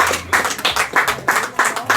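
Congregation in a Spanish-language church service clapping hands in rhythmic bursts, loud and close, about six rapid volleys over two seconds with no talk.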